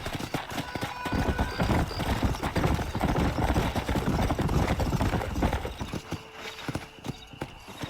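A horse gallops in the Red Dead Redemption video game, rapid rhythmic hoofbeats pounding steadily and close for most of the stretch before easing off near the end.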